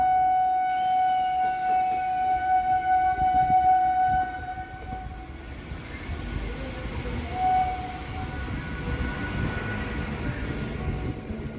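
A train rumbles into a station platform with a long sustained horn tone early on, then steady rolling and clattering of carriages continues as it pulls in.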